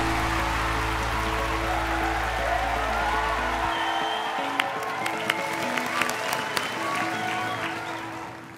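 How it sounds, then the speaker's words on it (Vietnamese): Audience applause at a Vietnamese televised competition show, dense steady clapping from a crowd that continues throughout, with a low hum dropping out partway and scattered sharper claps rising near the end before fading. "một tràng vỗ tay một lần nữa này"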